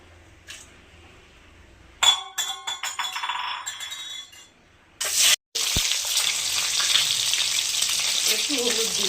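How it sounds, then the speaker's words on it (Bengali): Eggs drop into hot white oil in a wok and fry with a loud, steady sizzle, after a few metallic clinks and scrapes from the utensils. "এবার ডিমগুলো ভেজে নেবো।"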